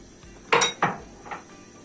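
A few distinct clinks of a utensil against a metal pot while stirring a plum mixture for fruit leather, three separate knocks, close by with no talking.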